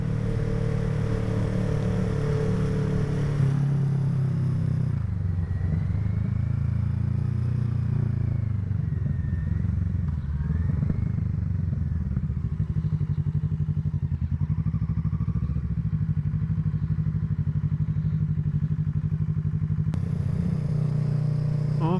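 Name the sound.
motorcycle riding home from work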